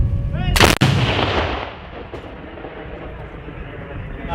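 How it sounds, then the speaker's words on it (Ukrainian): A single loud artillery blast cracks out nearby, followed by a long rolling echo that slowly fades away. "Постріл!"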